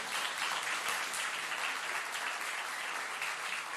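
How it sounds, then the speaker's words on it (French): Audience applause at a French sports awards ceremony honouring the athletes of the year, a dense, steady wash of many hands clapping throughout, loud and sustained with no talk over it. "on peut encore les encourager et les applaudir très fort"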